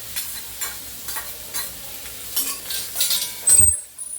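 Boiled tindora (ivy gourd) and potatoes stirred in a pan, giving repeated soft scraping strokes with a faint sizzle beneath and a sharper clatter near the end; no talking.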